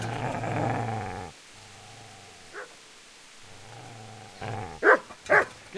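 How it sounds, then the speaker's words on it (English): A dog in the video game Kingdom Come: Deliverance growls low and steadily, then goes quiet, breaks into a couple of sharp barks and yips, and ends with louder snarls near the end, with no voice over it. "Get away, you mutt!"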